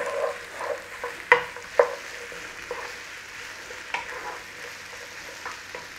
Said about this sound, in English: So in there with our onion and garlic. A little bit of a saute on there.